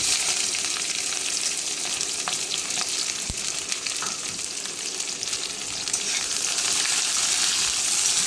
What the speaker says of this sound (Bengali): পেঁয়াজ রসুনটা লাল লাল করে ভেজে নিয়ে সবজিটা দিয়ে দেবো